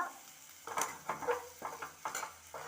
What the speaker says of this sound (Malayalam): നന്നായിട്ടൊന്ന് 1/2 മിനിറ്റ് ഇളക്കുക.